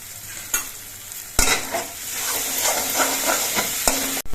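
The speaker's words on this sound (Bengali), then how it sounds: "মশলাটা এবার কিছুক্ষণ কষিয়ে নিতে হবে" Spice masala frying and being stirred in a pan, a steady close sizzle with scraping stir strokes and a few sharp clinks, no talking.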